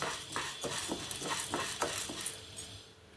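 Dry toor dal rustles and scrapes in a pan as it is dry-roasted on low heat and stirred in several quick, rhythmic strokes, fairly close, with no talking.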